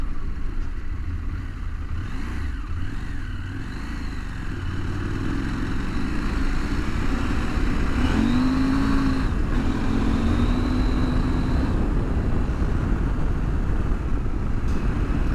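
KTM 890 Adventure R motorcycle engine powering through wet spring mud, a loud, steady close drone that rises into a climbing rev midway and then holds strong, with no voice over it.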